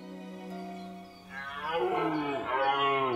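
A red deer stag bellows during the rut, a loud, deep, drawn-out roar that swells and grows harsher toward the end, close and alone in a quiet forest.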